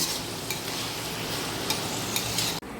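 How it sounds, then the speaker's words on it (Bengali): Stir-frying Chinese fried rice in a hot pan: continuous sizzling with sharp spatula scrapes at intervals, ending abruptly. "একটু ভাজবো, তো খুব বেশি ভাজার দরকার নেই, এটা চাইনিজ ফ্রাইড রাইস"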